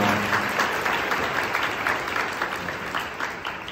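A hall full of students applauds at a school freshman welcome and appointment ceremony, with steady, continuous clapping at close range that fades slightly toward the end.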